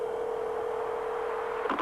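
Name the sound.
Lexus Coupe cellular car phone dialing tones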